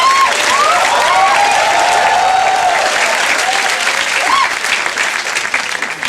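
Loud, sustained applause from an audience in a room at a Hindi comedy show, steady and close, with a voice speaking over part of it.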